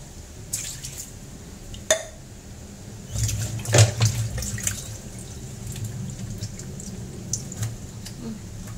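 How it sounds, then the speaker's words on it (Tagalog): Water is poured into a cooking pot of milkfish paksiw with eggplant and vinegar, giving a brief gurgling splash with drips, then a softer trickle, close by in a kitchen. "lagyan natin ng konting tubig."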